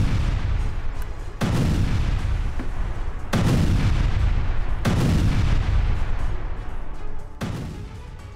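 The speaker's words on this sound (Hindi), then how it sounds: "रूसी ठिकानों पर एरियल बमों से इस बार हमला किया गया है।" Aerial bomb explosions strike Russian positions in Kherson, four heavy booming blasts arriving every one to two seconds over a continuous loud rumbling roar, with no voices.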